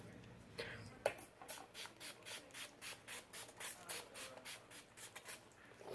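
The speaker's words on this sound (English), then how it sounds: "And now I'm just going to spray my face. Actually, I'm going to use the Wet n Wild setting spray." Wet n Wild setting spray misted onto a face in quick repeated pumps, a rhythmic series of short soft hissing bursts close to the microphone, fairly quiet with no talking.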